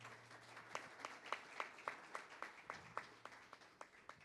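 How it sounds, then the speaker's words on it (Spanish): Sparse, fairly faint applause from a small audience at a book launch for a Vargas Llosa biography: a few hands clap in a steady, distinct rhythm for several seconds. "Pido un aplauso para él,"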